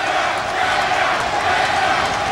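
A boxing crowd cheers for Molina, a dense roar of many voices filling the arena at steady volume over a couple of seconds.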